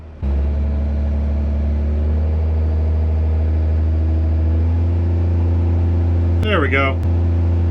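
A 1953 Kenworth bus engine runs at a loud, steady idle and then climbs in revs while it warms up. The drone holds close and constant, and a short spoken remark breaks in near the end.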